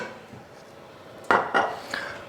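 A frying pan for searing black grouper is set onto the stove, a couple of sharp metallic clanks close by, followed by a lighter knock, after a quiet lead-in.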